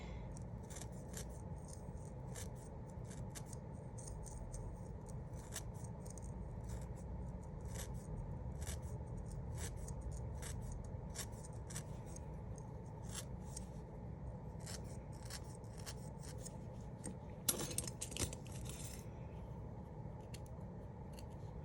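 Small scissors snip away stray wool around the edges of a needle-felted penguin keychain, a steady run of light, crisp cuts over a low background hum, with a brief louder rustle near the end.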